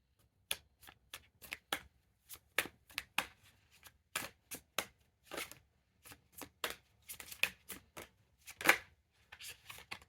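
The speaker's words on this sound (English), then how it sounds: "So yeah, so I'm gonna shuffle again." Tarot cards are shuffled close up in a quick series of crisp riffles and snaps, irregular bursts with short pauses between them, no talking.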